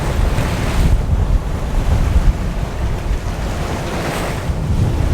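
Strong wind of about 25 knots roars across the microphone while a sailboat pushes through waves in the Society Islands, a loud, continuous rushing wash with surf surging and no talking.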